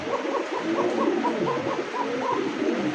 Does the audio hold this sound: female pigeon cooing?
yes